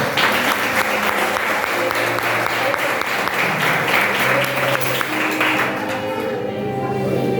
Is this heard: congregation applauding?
yes